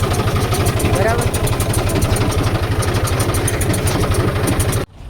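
A tractor engine idles at a farm in a village, its low, steady chugging pulsing evenly throughout and cutting off abruptly near the end, with voices talking over it.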